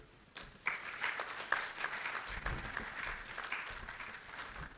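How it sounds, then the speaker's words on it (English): A conference audience at a WISTA Ghana port event claps in a sustained round of applause, individual claps crisp and close amid the dense mass, rising after a quieter start and holding steady. "Let's give another round of applause."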